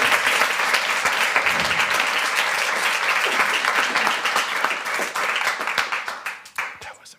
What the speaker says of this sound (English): can we give a round of applause for Kylie Bartel?